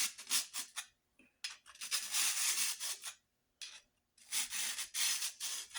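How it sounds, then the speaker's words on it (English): A card scraper is drawn along a heartwood axe handle in repeated rasping strokes, each a few seconds long with short pauses between them. "run the card scraper down"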